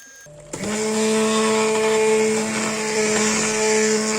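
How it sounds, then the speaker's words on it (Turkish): A blender switches on after a brief quiet and purées cooked potato and carrot soup, a loud, steady motor whine with a strong hum that holds continuously with slight wavering as the contents churn. "Şimdi blenderdan geçireceğim."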